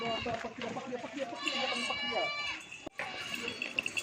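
Pink Rajanpuri goats and their kids bleating in a farm pen in the evening, several wavering cries overlapping, close by, with someone talking over them.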